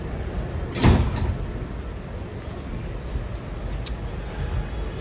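Doors of an R211T G subway train slide shut at a station with a brief loud rush near the start, then the car settles into a steady low rumble.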